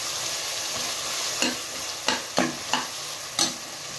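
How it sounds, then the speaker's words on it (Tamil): Onions or ingredients for prawn biryani sautéing in a pan until golden brown, a steady sizzle broken by several distinct stirring scrapes at irregular intervals, close and moderately loud with no talking. "நல்லா பொன்னு வர வரைக்கும் நல்லா வதக்கிடுங்க."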